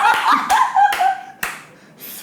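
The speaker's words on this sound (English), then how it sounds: "Slow clap." A slow clap, a few sharp, widely spaced hand claps, close and distinct, interleaved with light laughter and voices in a casual conversation.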